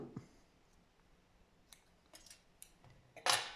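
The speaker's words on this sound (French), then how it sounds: "Je coupe ce qui dépasse." Scissors snipping off excess material during a recycling craft project, a few sparse quiet snips and clicks spread across the moment, ending in a louder, sharper cut close by, with no voices.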